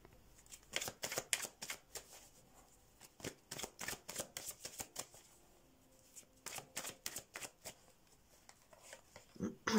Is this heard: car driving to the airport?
no